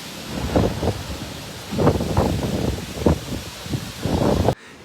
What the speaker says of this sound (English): esto se volvió tornado